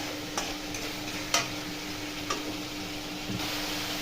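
Masala spices being sautéed in oil for a vegetarian chhanar dalna, a soft steady sizzle with a few light clicks of a spoon stirring the pan, close and with no voices.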